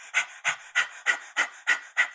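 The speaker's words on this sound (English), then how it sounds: "So that's our panting breath." Kundalini yoga breath of fire done through an open mouth with the tongue out, seven quick, even, breathy pants in a fast steady rhythm, close and clear with nothing else around.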